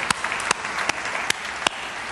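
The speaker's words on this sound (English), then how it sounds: "So let's give them another round of applause." A church congregation gives a round of applause at a Mother's Day service, fairly light clapping with a few sharp louder claps standing out.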